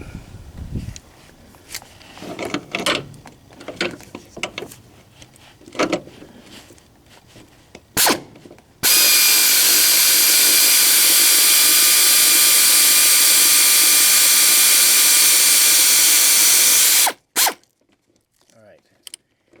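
An air ratchet spins a bolt out during a timing belt change on a 1.6L Hyundai Accent engine, a loud continuous whirring burst of about eight seconds that follows scattered clicks and handling noises.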